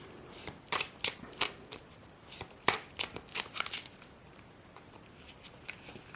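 Thin, flexible playing cards from an art deck are shuffled and drawn by hand, making a run of crisp flicks and riffling snaps that cluster, then thin out into sparse taps.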